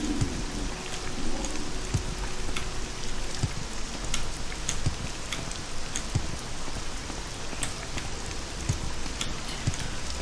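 Steady rain falls in the video game Morrowind, a dense, even patter on surfaces with scattered sharper drops, continuous and fairly loud throughout.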